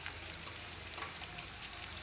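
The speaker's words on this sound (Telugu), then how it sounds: "ఉల్లిపాయలు అలాగే పచ్చిమిర్చి కూడా వేసేస్తున్నాను." Chopped onions and green chillies sizzling in hot oil in a wok, a soft continuous crackle with faint spatters and a light stirring scrape, fairly quiet and with no voices.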